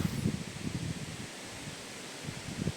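Steady wind noise rushes across the microphone with rustling gusts, rising and falling throughout at a moderate, constant level.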